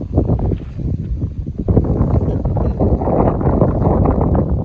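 Strong wind buffets the microphone outdoors at a farm pond in rural Buriram, Thailand, a continuous loud low rumble with gusting surges throughout, no speech.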